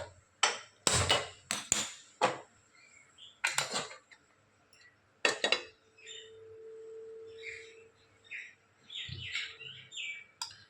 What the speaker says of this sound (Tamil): இப்போ நான் ஸ்டவ்வை பற்ற வச்சு குக்கர் ஏற்றிக்கிறேன்.